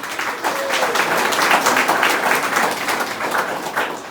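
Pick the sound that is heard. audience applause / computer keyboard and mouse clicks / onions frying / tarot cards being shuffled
audience applause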